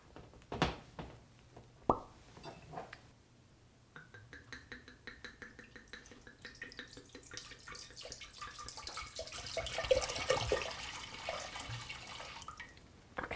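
Merlot red wine glugs and splashes as it is poured into a cooking pot, starting with a few clinks and handling noises, then a steady rising liquid pour, close but soft.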